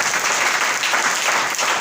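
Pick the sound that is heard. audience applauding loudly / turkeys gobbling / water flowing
audience applauding loudly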